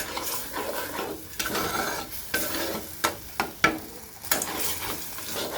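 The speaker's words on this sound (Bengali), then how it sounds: "খুবই কম দিয়েছি তো, তাই একটু মিল্ক দিয়ে একটু কষিয়ে নিচ্ছি।" A spice paste sautéed with a little milk in a pan sizzles steadily while a utensil stirs it, with several sharp scrapes and clinks against the pan, close and without talk.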